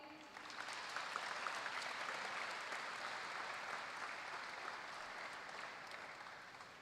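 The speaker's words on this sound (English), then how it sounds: "let's end it with an overhead round of applause for the tech team, the music team, and the performers this morning." Applause at a live school morning assembly, a faint, even wash of many hands clapping that swells in and holds steadily throughout.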